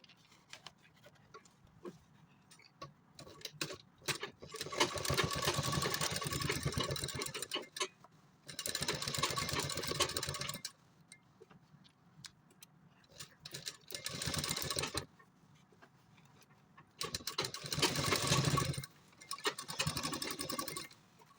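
A sewing machine stitches a tote bag made of fabric scraps and lined with rubber sheet, running in several steady whirring bursts of a few seconds each with quiet gaps between them, close and clear with no talking.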